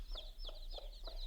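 A mother hen clucks with her chicks on a lawn, faint and distant, giving soft rhythmic clucks about three times a second mixed with thin high peeps.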